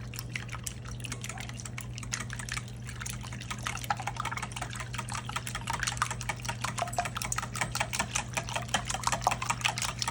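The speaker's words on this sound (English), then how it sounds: "Whisk." Eggs seasoned with salt are whisked briskly in a stainless steel bowl, giving a steady run of quick, close metallic taps and clicks over a low background hum, growing slightly busier toward the end.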